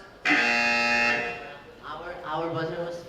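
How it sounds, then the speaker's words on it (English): A quiz competition buzzer gives one loud, harsh electronic tone lasting about a second, then stops, and people begin talking right after. "Our buzzer was flashing that time."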